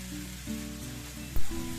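Chopped leafy greens with torn green chillies sizzle in a pan for a vegetarian Bengali dish, a steady close frying hiss with a soft thump near the end.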